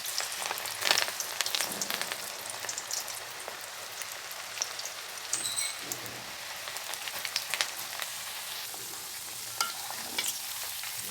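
Pearl millet pakoda frying in hot oil, a continuous crackling sizzle with scattered sharper pops, close and steady with no talking.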